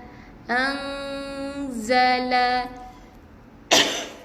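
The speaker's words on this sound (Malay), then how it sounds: "Maaf, batuk." A long sustained nasal vocal tone from Quran recitation, then a single short, sharp cough close to the microphone after a brief pause.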